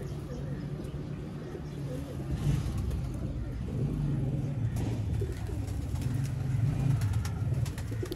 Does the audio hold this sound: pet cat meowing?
no